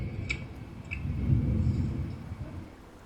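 Steady rain ambience from the Blue Prince video game, a continuous low rumbling wash of rainfall with a couple of brief faint higher tones near the start.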